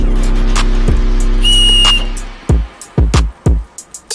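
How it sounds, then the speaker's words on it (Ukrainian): A single shrill survival whistle blast from a military watch, short and steady, sounds once, followed by a few sharp clicks and handling knocks. "Свисток допоможе подати сигнал лиха або відлякає тварин"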